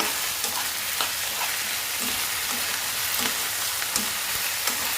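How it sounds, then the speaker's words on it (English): Curry leaves frying in hot oil for an ivy gourd dish, a dense continuous crackling sizzle with regular spoon scrapes and taps as they are stirred, close and fairly loud, no voices. "Then add the curry leaves. Mix it."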